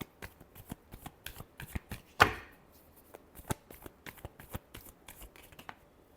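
Tarot cards riffled and shuffled by hand, a run of crisp close flicks and taps with one sharper slap near the middle, alone without talk.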